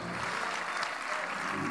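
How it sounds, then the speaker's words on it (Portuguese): Church congregation applauding during a Santa Ceia service, a sustained crowd of clapping hands at steady volume, dense and continuous with no break. "aplauda o nome de Jesus"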